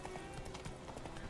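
Hooves of Roach, a horse ridden in The Witcher 3: Wild Hunt, clopping in a steady, close, moderately loud rhythm over a short stretch with no talk.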